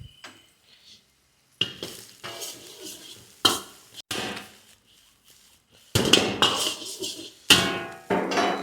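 350 grams of rice are tipped into a pan for restaurant-style chicken egg fried rice, producing a series of loud clattering scrapes and metallic knocks separated by short quiet gaps.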